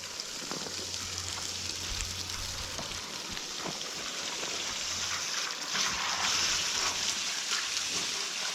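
Water steadily spraying and dribbling from a leaky red garden hose fitting at an irrigation setup, a continuous close hiss and patter with faint droplet ticks and no talk.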